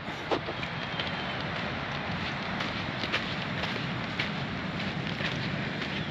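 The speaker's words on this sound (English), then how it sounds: "You can hear the sea still." Ocean surf along the rugged Atlantic coast on Portugal's Fisherman's Trail between Arrifana and Vila do Bispo, a steady broadband wash of waves heard from a distance, with faint footsteps crunching on sand mixed in.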